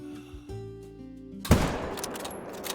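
A single sharp crack of a 7mm bolt-action rifle fired at a fallow deer in a hunting video game, loud and close, with a ringing tail over quiet tonal background music.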